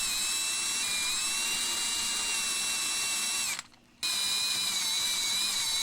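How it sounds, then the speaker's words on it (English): A high-pitched power drill bores into the rosewood-style fretboard of a vintage Hohner Shark Fin guitar for inlays, whining steadily up close, with a brief stop partway through before resuming. "So we'll drill a little bit more."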